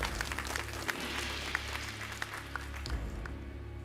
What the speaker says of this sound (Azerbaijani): 8 və 10 nəfəri biz alqışlayırıq ürəkdən